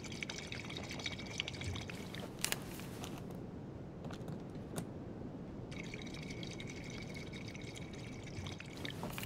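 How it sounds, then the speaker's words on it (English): Water pours steadily from a tap as a container is filled in the video game Life Is Strange 2, a continuous quiet gushing with a few faint clicks over the top. "Okay, we fill the water."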